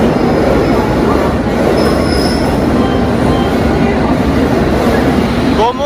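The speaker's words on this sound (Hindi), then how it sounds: "सेट के WAP-7 लोकोमोटिव के साथ आई है ये अपनी गंगा कावेरी एक्सप्रेस" The Ganga Kaveri Express pulls into a station platform behind a WAP-7 electric locomotive, a loud continuous roar of wheels and rumbling carriages with high squealing near the end.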